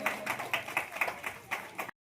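An audience at a children's event claps in an even, rhythmic beat, about four claps a second, sounding soft and somewhat distant before cutting off abruptly.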